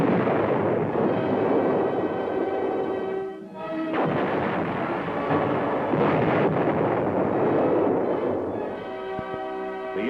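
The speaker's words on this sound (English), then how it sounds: "A 165mm cannon designed to fire at short ranges with extreme accuracy can be used for" A 165mm cannon fired from an M-60 Patton tank during combat exercises, a heavy booming blast with rolling rumble and echo over a low droning backdrop.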